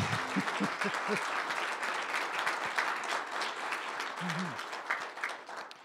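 Audience at a French-language consumer awards event applauds in a steady, moderately faint wash of clapping, with a few brief voiced sounds rising above it.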